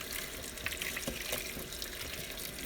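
Tap water runs steadily into a sink while salted butter is kneaded and rinsed under it, a constant close hiss of flowing water with faint splashes.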